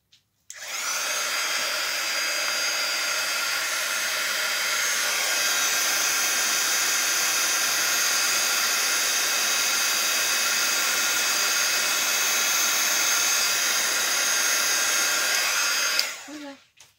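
A hot air heating tool blows steadily on a greeting card, a constant loud whooshing hiss with no pauses for about sixteen seconds, cutting off abruptly at the end.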